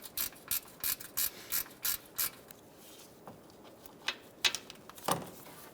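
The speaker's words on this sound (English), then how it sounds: "we're going to remove the 10mm bolt for the power steering line" A ratchet clicks in quick, evenly spaced bursts close by while loosening a 10mm bolt on the power steering line of a 2007-2011 Toyota Camry, followed by a few lighter metallic clicks and taps.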